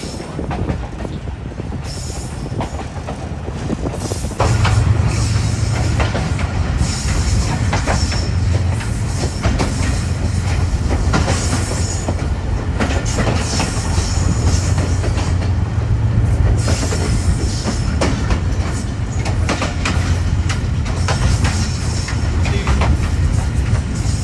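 An express train on a Pakistani line from Karachi to Sehwan runs steadily over the tracks past a station, with a continuous loud rumble of wheels and rail clatter and no talking heard.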